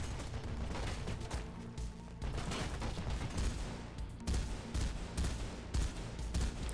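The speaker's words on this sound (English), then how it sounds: "do they have a freaking machine gun" Sustained rapid gunfire from the Mirror's Edge video game, dense overlapping bursts of machine-gun shots rattling continuously at close range with heavy low-end booms and no pauses.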